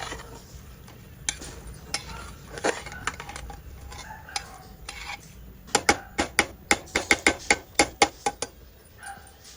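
Chunks of chicken, rice and large potato pieces are stirred together in a pot, giving a run of sharp scraping and clattering knocks that grow busier and more rhythmic toward the end, close and clear with no talk.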